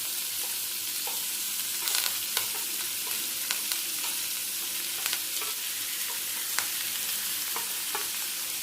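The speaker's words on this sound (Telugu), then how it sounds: "ఇవి బాగా ఎర్రగా వేగనిద్దామండి." Green chillies, ginger and curry leaves fry with onion in a pan, giving a steady, bright sizzle throughout with scattered stirring clicks and no voices.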